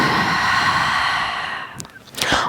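A long, breathy exhale during a yoga session, close and fairly loud, trailing off before a quick inhale near the end, with no speech over it.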